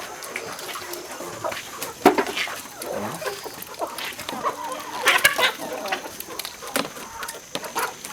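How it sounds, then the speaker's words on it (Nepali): Local farm chickens cluck in scattered, irregular calls with a few sharper squawks, moderately close over steady outdoor background noise. "यो चाहिँ लोकल कुखुराहरू"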